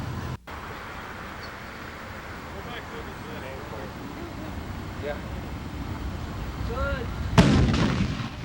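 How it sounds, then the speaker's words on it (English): One pound of commercial salute-type flash powder detonates in a simulated fireworks mixing shed at the 1988 PGI Fireworks Convention: a single loud, sharp blast near the end, after a steady outdoor hum with faint crowd voices. "1 pound of commercial flash powder, the same kind that's used in any salute that's used in a fireworks display"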